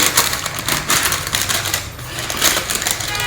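Eco Bake parchment baking paper pulled from a roll and torn off in a kitchen, a close, crisp run of crinkling and ripping bursts.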